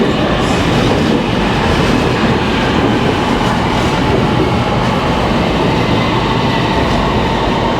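A Kajang line MRT train pulls into a Kuala Lumpur station with a steady, loud rumble and rushing roar of wheels on rail, the wide noise holding evenly throughout, with no voices.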